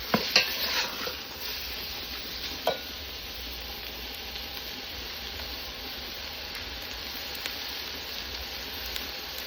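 Curry paste fries in a pan for a banana stem and pork belly curry while a utensil stirs it, making a constant sizzle with a few scraping knocks early on and steady crackling after.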